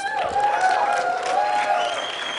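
Audience applause and scattered cheering from a crowd at an esports panel at PAX East 2013, a steady wash of clapping filling the room with a few raised voices mixed in.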